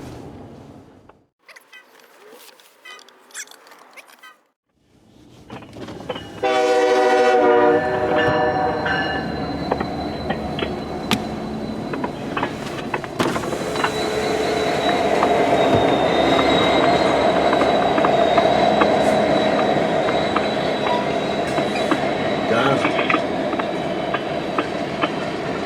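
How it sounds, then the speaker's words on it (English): A large train rumbles past close by with rising clickety-clack, squealing wheels and a brief horn, loud and sustained for most of the stretch after a quieter opening. "I may have got this train"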